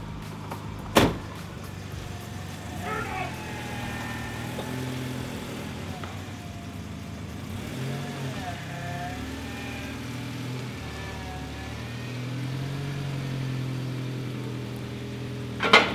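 A Volvo 940 running on LPG labours uphill, its engine a steady low drone with shifting tones as it climbs, plus a couple of sharp knocks near the start and end.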